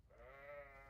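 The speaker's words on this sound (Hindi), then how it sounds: "ये बकरी की आवाज कहाँ से आ रही" A goat bleats once in Hogwarts Legacy, a single wavering, nasal cry held for nearly a second, faint and alone.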